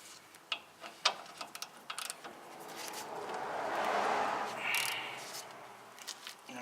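A ratchet clicks in short bursts as it tightens the strut assembly bolts on a 2007 Chevrolet Cobalt during front rotor and strut replacement, close and moderately loud, followed by a longer mechanical whir.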